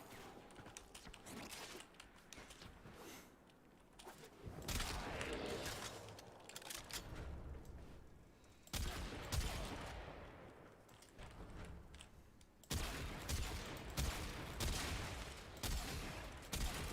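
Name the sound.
gunfire from a weapon in the video game Warframe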